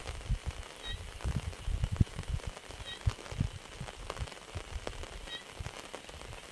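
Heavy night rain patters steadily on a surface during a fishing trip, with irregular drops and taps, along with a few faint high chirps in the background.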